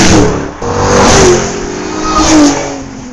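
A 2010 Ford Mustang GT V8 revs hard and close, rising and falling in two or three strong pulls with the engine note sweeping upward each time.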